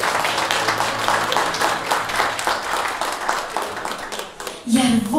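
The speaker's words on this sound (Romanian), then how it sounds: "Haideți să aplaudăm și pe mămică!" A crowd applauds a mother at a family celebration, dense clapping continuing for several seconds before a voice starts speaking at the end.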